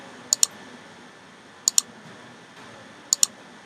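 Square bracket keys on a computer keyboard are pressed in three evenly spaced pairs of crisp, close clicks over a quiet room hum.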